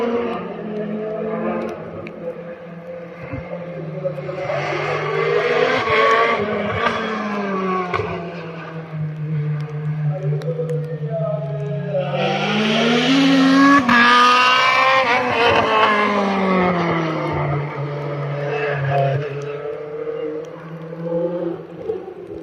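Rear-wheel-drive rally cars race by on a mountain stage at Rallye des Montagnes de Lyon Limonest, engines rising and falling as one car revs up and passes, then another howls through more loudly at high revs, with no talk.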